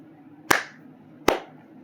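Two sharp, separate hand claps ring out close and loud, spaced under a second apart over a faint background hum.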